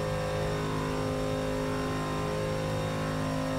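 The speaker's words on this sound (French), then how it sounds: "Bien sûr la Peugeot 908 en version 2009 et 2011." Peugeot 908 race car in Forza Motorsport 6, its engine droning steadily and loudly at a sustained high pitch throughout, with no voices.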